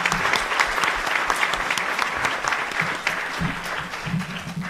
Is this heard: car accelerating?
no